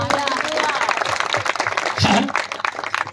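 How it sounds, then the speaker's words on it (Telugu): A church congregation claps loudly during a sermon, dense steady applause filling the room for a few seconds while a preacher's voice carries over it. "గట్టిగా చప్పట్లు కొట్టాలి."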